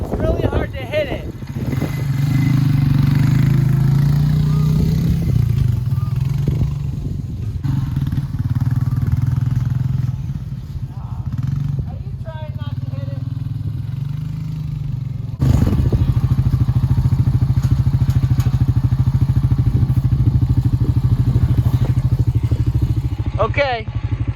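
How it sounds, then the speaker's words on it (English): A four-wheeler engine drones loudly and steadily while towing a kayak through deep snow during a blizzard, with clattering and scraping; it surges near the middle, and people talk over it. "we're gonna see how we do with the four-wheeler here"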